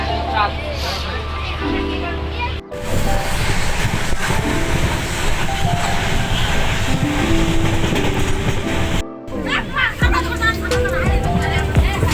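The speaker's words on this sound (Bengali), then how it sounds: "এই যে এখন শিয়ালদা থেকে ট্রেন ছেড়ে দিয়েছে" A passenger train pulls out of Sealdah station in Kolkata, its loud wheel clatter and rumbling carriages running nearly throughout, with a brief break in the middle and voices mixed in.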